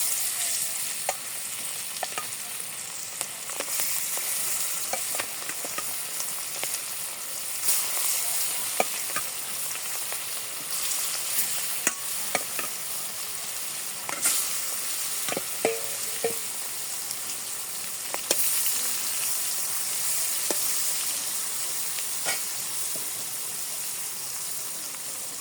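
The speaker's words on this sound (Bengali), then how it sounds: "তেল গরম হয়ে গেছে, এখন আমি মাছ দিয়ে দিই।" Fish fries in hot oil in a wok in a village kitchen, giving an even, continuous sizzle broken by sharp clicks and scrapes from turning, with no voices.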